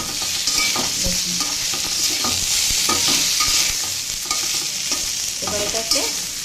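Flat beans and potatoes stir-fried in a pan give a steady, loud sizzle, with repeated scrapes and clatters of the stirring spoon throughout and no talking.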